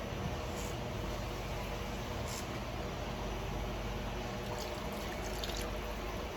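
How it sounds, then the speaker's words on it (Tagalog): Water poured into a cooking pot of pork simmering with coconut milk for adobo, a steady broadband wash of liquid running continuously and close throughout, with no talk over it. "konting tubig pa."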